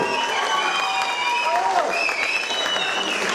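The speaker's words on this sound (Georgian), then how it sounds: "ანსამბლი ჰერულა მხურვალე აპლოდისმენტებით მოგესალმებით" Warm applause from a concert audience greeting the Herula folk ensemble in Tsinandali, steady dense clapping throughout with a voice speaking over it.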